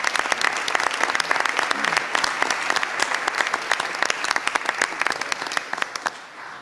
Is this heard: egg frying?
no